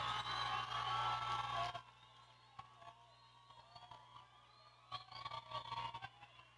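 An audience at a neighbourhood dance contest final in Ixtapaluca cheers and shouts for a dancing couple. The burst is loud at first, cuts off sharply, and then scattered, fainter cheers and whoops follow.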